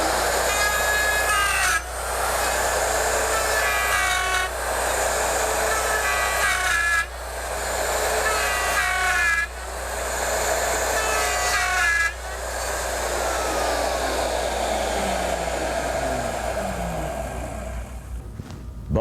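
Router cutting a dovetail joint on a Porter Cable Omnijig 5116, a loud close whine broken into a series of repeated cutting passes with brief dips between them, winding down at the end without speech.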